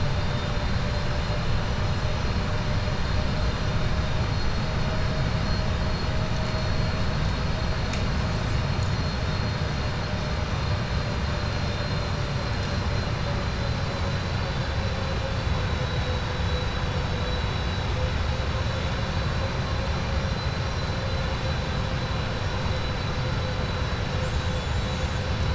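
Steady, continuous drone of Boeing 777-200F engines at idle thrust in a PMDG flight simulator, an even cabin hum with a faint sustained tone on top, unchanging throughout and with no talking.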